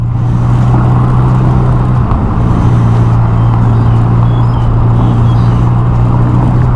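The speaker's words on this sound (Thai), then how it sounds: "เฟอร์รารี่สี่สี่แปดแปดครับเฟอร์รารี่สี่แปดแปดครับ" A red Ferrari 488 GTB sports car on the road, its engine a loud continuous low roar close by.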